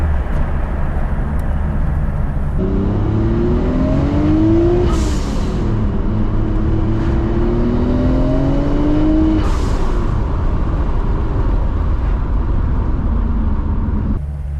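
A 1999 Tommy Kaira Nissan Skyline R34 GT-R engine revs up and down repeatedly, loud and close, with rising and falling pitch sweeps and a throaty, smooth tone.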